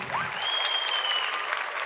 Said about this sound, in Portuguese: Dá uma salva de palmas para esse povo.